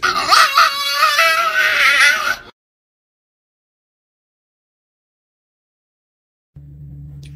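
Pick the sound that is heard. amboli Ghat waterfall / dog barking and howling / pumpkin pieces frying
dog barking and howling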